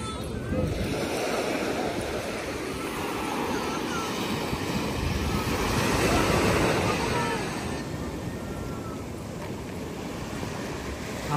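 Rough, churning sea waves at high tide during rainy weather surge and crash continuously, with wind noise buffeting the microphone, loud and close.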